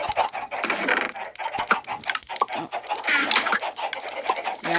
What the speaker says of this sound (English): Yep, there's a chicken farm.